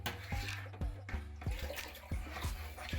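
Water is poured from a container onto potted hot pepper plants growing indoors, a series of splashing gurgles and pours in uneven bursts, close and moderately quiet, with a faint voice in the background.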